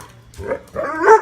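A dog barks indoors, close and loud, giving two or three quick barks and yips in a short burst.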